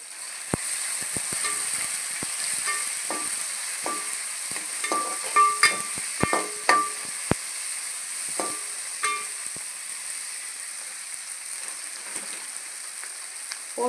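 Okra (ladies finger) sautés in oil with onion and tomato, a steady soft sizzle underneath intermittent clicks and scrapes of stirring that cluster in the middle.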